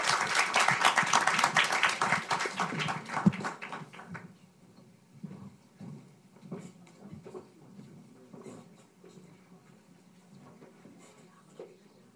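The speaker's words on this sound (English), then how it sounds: "Let's have a round of applause for our first panel" Audience applause for a conference panel on climate risk, dense clapping for about four seconds that thins quickly into scattered claps and room noise.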